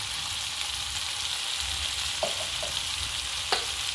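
Spices sizzling in a frying pan with a steady, close frying hiss while they are stirred, a few soft utensil scrapes and taps against the pan near the end.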